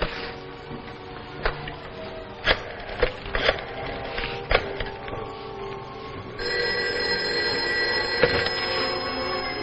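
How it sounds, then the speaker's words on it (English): An old telephone bell in a 1952 television drama starts ringing partway through and rings steadily to the end, loud and close. Earlier there are scattered sharp knocks and shuffling handling noises. "Now, look, I'm going to call you on this other phone."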